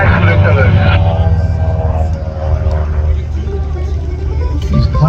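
A 180 horsepower aerobatic airplane flying an airshow routine, its propeller engine droning loudly with a steady rumble and shifting pitch as it maneuvers, while a commentator talks over it.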